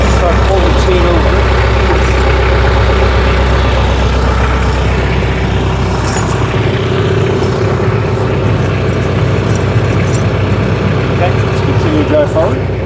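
A tractor engine runs steadily during snow chain fitting with pewag doppelspur chains, a loud continuous low rumble throughout with occasional light metallic clinks and voices talking over it.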